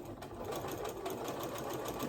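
A sewing machine stitching French seams in fabric, a steady fast mechanical whir with a rapid even needle rhythm, close and continuous without talk.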